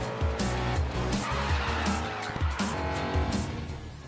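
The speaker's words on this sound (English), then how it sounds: "Grid Autosport, a racing game from Feral Interactive" Racing cars in the video game Grid Autosport, engines roaring with repeated tire squeals and skids, fairly loud and continuous over a few seconds with no talk.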